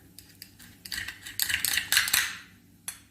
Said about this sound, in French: vous prenez une cuillère pour décoller la noix de la coquille